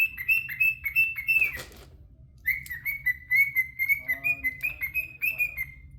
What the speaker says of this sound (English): Yes, that's my bird right beside me,